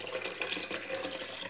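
Water pours steadily from a glass into a blender for mint sharbat, a close, continuous splashing stream with no pauses.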